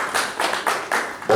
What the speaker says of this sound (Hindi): अगर आप सभी मेरी आवाज सुन पा रहे हैं तो एक बार जोरदार तालियां हो जाए आप सभी खास अतिथियों के लिए